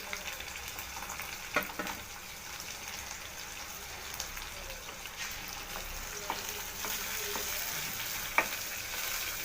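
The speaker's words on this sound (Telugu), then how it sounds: "ఉల్లిగడ్డ, పచ్చిమిర్చి, ఎండుమిర్చి, కరివేపాకు అన్నీ వేగిపోయినాయి" Onion, green chillies, dried red chillies and curry leaves fry in hot oil for an ivy gourd curry, giving a soft continuous sizzle like light rain, punctuated by occasional sharp pops and stirring clicks.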